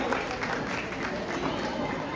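Crowd applause at a birthday party celebration, cheering the woman who won a game; steady dense clapping from a room of guests, moderately loud throughout with voices mixed in.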